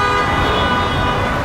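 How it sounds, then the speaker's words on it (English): A car horn blares in a single steady, loud, continuous honk amid traffic in Florida, close by and uninterrupted. "people are going nuts already on the horn"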